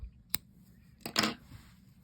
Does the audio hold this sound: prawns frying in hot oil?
no